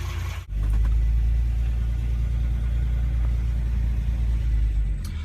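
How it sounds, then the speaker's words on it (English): A Wolseley 690 car on a test drive up a street gives a steady, loud, low engine rumble throughout, heard from inside the car, after a brief dip at the start. "So we're taking a little test drive in the Wolseley 690 up the street, just so you can get an idea of how it runs"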